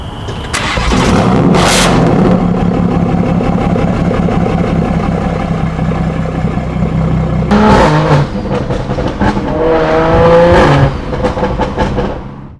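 A BMW 340i with a B58 engine fires up through an AWE exhaust with muffler, giving a loud, close start and a steady idle, then sharp revving blips toward the end.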